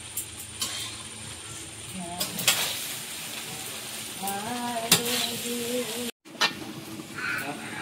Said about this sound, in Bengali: সব সবজিগুলো দিয়ে দিলাম, দিয়ে এবারে মিশিয়ে একটু ভেজে নিলেই হয়ে যাবে।